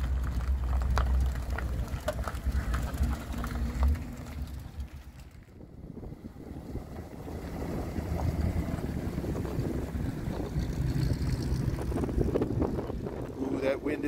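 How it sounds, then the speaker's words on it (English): Strong wind gusting across a farm, a blustery roar buffeting the microphone that eases briefly mid-way, then swells again as the gusts pick up. "that wind is picking up"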